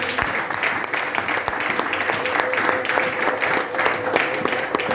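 A church congregation in Brussels applauding steadily, dense sustained clapping throughout at close range, with a voice speaking over it.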